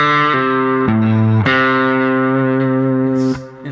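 Electric guitar with distortion and effects plays a pentatonic lick using a slide, sustained notes gliding between pitches, loud and close.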